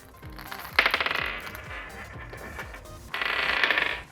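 Steel balls of a mechanical ball clock clattering and rolling into a tapered storage channel, two loud bursts of rapid metallic rattling and ticking, separated by a quieter stretch of scattered clicks.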